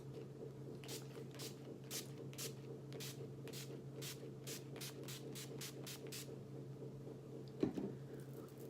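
Maybelline Dream Satin Mist Luminous Setting Mist is pumped in a long run of quick, faint spritzes, more than a dozen short hissing bursts in a steady rhythm over a low hum, with no talking.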